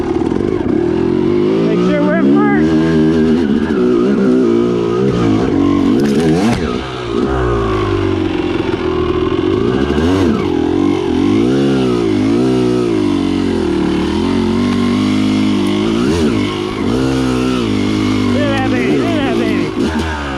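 Dirt motorcycle being kick-started at the top of a hill, then its engine catches and revs up and down repeatedly, loud and close, with a voice talking over it at times.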